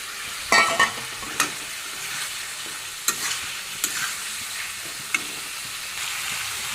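Fish head dropped into spices frying in a pan with turmeric and salt, giving a few sharp clatters and stirring scrapes over a steady low sizzle, close and moderately loud.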